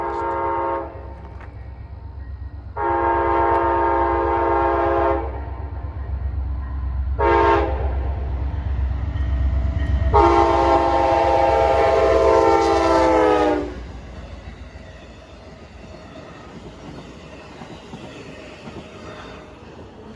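A passing Amtrak passenger train at Sheldon Avenue, Lancaster, New York, sounds its horn in several long blasts, one short, then a final long one, over a steady low rumble of rolling wheels.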